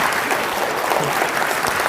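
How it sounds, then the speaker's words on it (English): An audience at a conversation event with Tony Robinson bursts into warm applause, dense loud clapping from many hands filling the room without pause. "I want to give you a clap because that was so lovely"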